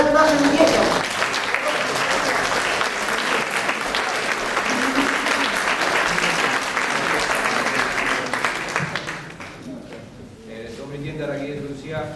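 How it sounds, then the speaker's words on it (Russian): Sustained audience applause fills a concert hall for about nine seconds, then fades as a speaker begins addressing the audience. "пожалуйста, аплодисменты стране"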